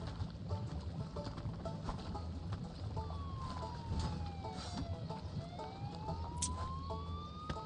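A wailing ambulance siren in Goat Simulator 3 rises and falls in long sweeps, fairly faint, against a busy low rumble of background noise.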